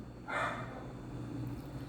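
A dog gives a single sharp bark at a moderate distance, quiet and brief, over a low steady room hum.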